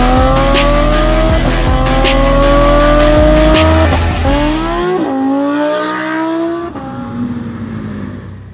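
A car revs hard at full throttle, engine pitch climbing steadily through long pulls with brief shift breaks and some tyre squeal, loud and close with no one talking.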